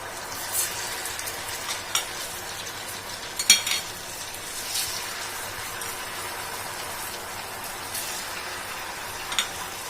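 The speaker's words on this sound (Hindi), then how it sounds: "ये देखिए, ऐसे गोल्डन ब्राउन करके इसको डीप फ्राई करना है।" Taro (arbi) pieces deep fry in hot oil for arbi tikki, a continuous bubbling sizzle with occasional clinks and stirring knocks from a utensil against the pan.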